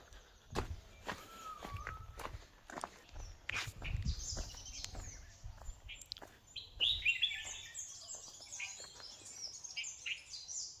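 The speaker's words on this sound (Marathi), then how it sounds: "पक्ष्यांचा आवाज येतोय बघा" Small birds chirp and tweet in the background on a foggy Konkan village morning near a school. Nearby footsteps crunch steadily, and a brighter burst of bird calls rises in the later half.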